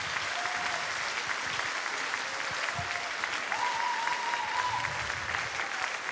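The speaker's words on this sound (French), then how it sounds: "On peut l'applaudir encore une fois, s'il vous plaît" A crowd claps for a singer at the closing song of the 7th Francophonie Games, steady dense applause holding throughout, with faint voices and a few tonal whistles or cheers over it.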